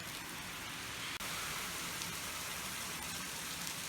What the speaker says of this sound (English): We're getting real rain. It's real. It's not Skywater. It's rain.